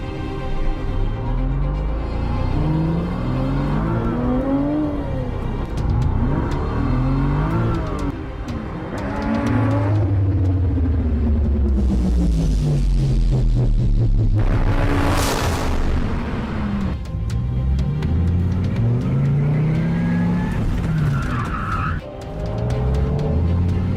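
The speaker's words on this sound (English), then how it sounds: "I'll go by real quick so you can hear it, because the exhaust is pretty good on this" An exotic sports car with a loud, throaty exhaust drives past up close, its engine revving and rising then falling in pitch as it passes, with no talking.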